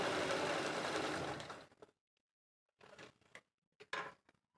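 Home sewing machine running a short embroidery stitch practice run, a steady whirring burst lasting under two seconds followed by a few brief mechanical clicks and scrapes, close and fairly quiet, with no talking.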